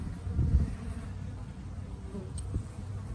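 Honey bees from a small week-old swarm hum steadily over a couple of frames in the hive, a close, continuous low buzz with no talk.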